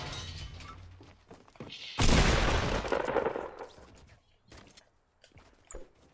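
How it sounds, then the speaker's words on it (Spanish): Fortnite gunfire erupts in a loud burst, followed by a rapid volley of shots that fades into scattered, quieter pops and single cracks, with no voices over it. "¿Desde dónde me dispara?"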